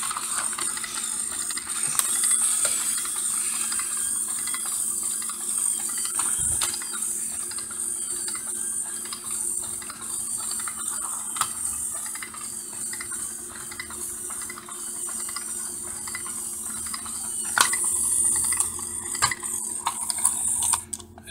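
Two 3D-printed toy walking robots driven by N20 gear motors, one 100 RPM and one slower, make a continuous rattly mechanical ticking and clicking with a faint motor whine, close up and without speech.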